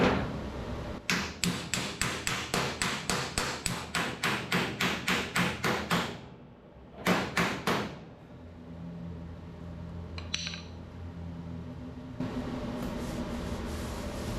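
Hammer strikes on a sheet metal cowl section, a fast steady run of about fifteen sharp ringing blows, a brief pause, then a few more, followed by quieter shop noise.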